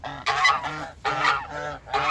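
Thai Christmas geese in a pen in Pattaya give three loud, close, harsh honks in quick succession.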